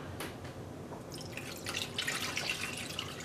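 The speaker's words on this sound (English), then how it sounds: "So I'm going to go ahead and add the entire 8 cups." Water poured over a braid of roving in a container for dyeing: a steady splashing trickle that grows brighter and busier partway through, close and moderately loud, with no talking.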